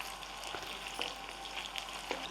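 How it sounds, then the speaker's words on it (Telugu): Paneer frying in a pan, a steady hissing sizzle with faint crackles and small pops, close and fairly quiet, with no talking. "పన్నీర్ ఫ్రై తొందరగా అవుతుందండి."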